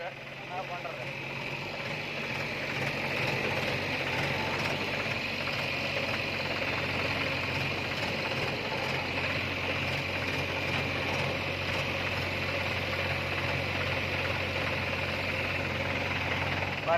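A Mahindra tractor engine runs steadily and loudly throughout, a constant low drone during soil loading beside a JCB 3DX, with no break in the sound.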